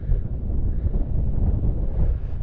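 Cold wind blows on the Prostredný Hrot mountain in the Tatras, a loud, steady low roar buffeting the microphone throughout with no other sounds.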